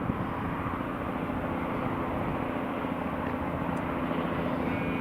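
A Robinson R44 helicopter comes in to land at an airport, heard as a steady distant rotor and engine drone that stays even throughout with no talk.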